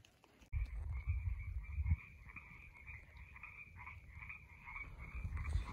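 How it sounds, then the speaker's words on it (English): Sierra tree frogs calling in a chorus near the water, a dense overlapping croaking that starts abruptly and carries on steadily, moderately close but fairly quiet. "Bunch of frogs over there."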